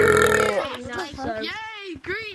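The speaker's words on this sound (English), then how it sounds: "I'm trying to burp in your face." A person burps loudly and close to the microphone at the start, then speaks over game play right after.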